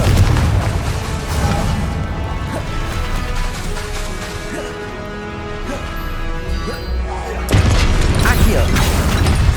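Repeated Confringo blasting-spell explosions in the Hogwarts Legacy video game, booming low rumbles and crashes that run continuously under game music, with a louder burst near the end.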